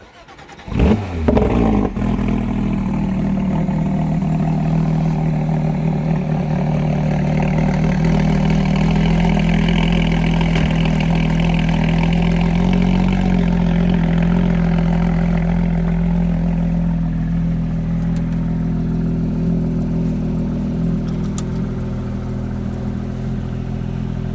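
A Porsche GT3 RS engine cranks and fires up with a brief rev, then settles into a steady, loud, deep idle that continues to the end.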